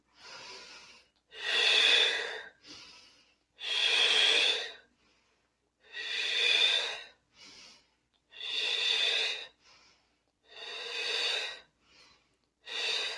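Slow, deliberate breaths during a meditation and movement exercise: six or so long, close inhales and exhales, each a loud airy rush of a second or more, separated by quiet pauses.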